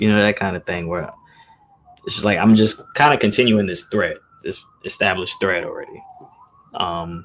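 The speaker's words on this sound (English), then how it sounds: "So there's some sirens passing by right now" Emergency sirens pass by outside, a thin rising and falling wail that sits faintly beneath someone speaking continuously indoors.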